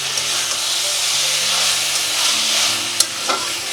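Small boneless chicken pieces sizzle and fry steadily in a hot pan for a chicken ghugni, a dense continuous hiss with a couple of brief stirring clatters near the end.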